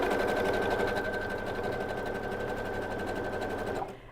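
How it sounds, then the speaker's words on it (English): A sewing machine stitches a zigzag across a tote bag, running in one continuous fast whirring hum with a rapid needle rhythm before stopping near the end. "So I'm gonna do a zigzag all the way across."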